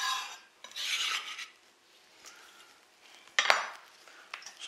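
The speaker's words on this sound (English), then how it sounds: "use the back of your knife to sort of crush them a little bit" Spices crushed with the back of a knife on a chopping board while preparing a lamb dish, giving a few short gritty rasping scrapes, one broad burst early and a sharper crunch later, close and moderately loud with no talking.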